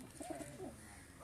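A pigeon at a breed show coos softly in a few short, low rounded notes over faint background noise.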